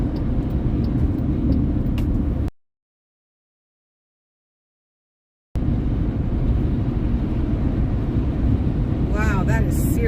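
A loud truck rumbles along the road beside a moving vehicle, a steady, heavy roar that drops out for a few seconds and then returns just as loud.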